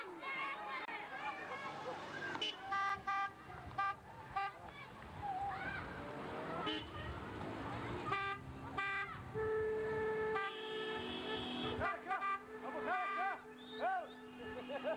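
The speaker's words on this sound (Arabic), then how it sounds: "زمرو، قول للشحتة خليه يزمر" Car horns toot repeatedly in bursts during a 1990 wedding convoy in Sahab, mixed with crowd chatter and shouting voices throughout.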